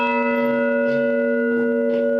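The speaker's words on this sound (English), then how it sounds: "That's a bell recovered from the USS Arizona." A bell recovered from the USS Arizona is struck at a Pearl Harbor remembrance, giving a loud, sustained metallic ring with steady overtones that hangs for the whole moment, with faint murmurs around it.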